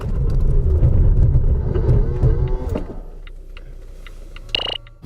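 Volvo V60 Cross Country under a hard braking test: a loud, close road rumble fades out over a few seconds, then a brief sharp squeal comes near the end.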